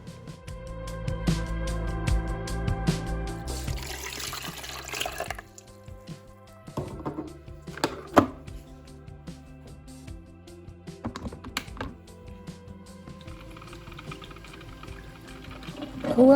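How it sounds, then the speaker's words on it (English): A coffee maker brews early in the morning with gurgling, dripping and pouring water, bursts of bubbling hiss that come and go in irregular waves, close by and fairly loud, with no voices. "Who else loves the sound of brewing coffee?"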